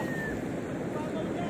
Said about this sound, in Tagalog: Ito na yung tubig.